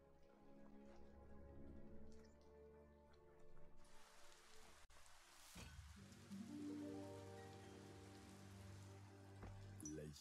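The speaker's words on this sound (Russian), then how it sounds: "Кажется, дождь начинается." Rain begins falling in the video game Biomutant, a steady patter of drops with dripping over low ambient game music and tones throughout.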